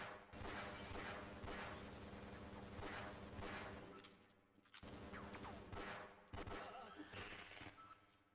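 Rapid bursts of gunfire from the first-person shooter Half-Life, played on hard difficulty, with dense repeated shots filling the whole stretch, a brief lull near the middle and then another loud volley.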